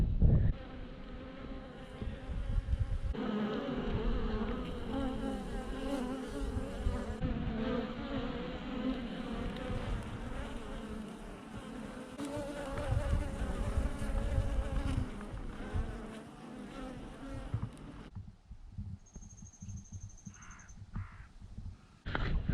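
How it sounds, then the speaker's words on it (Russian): Bees swarm around an apiary, a dense buzzing that stays close and steady for a long stretch, with crows cawing in the distance and a few high chirps near the end. "Вот пасека. Пчелы, смотрю, летают"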